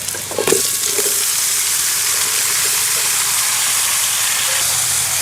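Bottle gourd pieces tipped into a wok of onion and chili frying in oil give a brief clatter, then a loud, steady sizzling hiss that carries on without a break.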